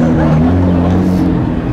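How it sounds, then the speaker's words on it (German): Loud, close engine drone with steady low tonal rumble from a drift car coming around a corner, dense and sustained throughout with a slight fade at the end. "hier kommt nämlich gerade ein Drifter um die Ecke"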